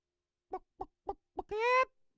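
A man imitates barnyard chicken noises with his voice, four short clucks in a steady rhythm followed by a longer, drawn-out squawk, close and clear with no other sound around.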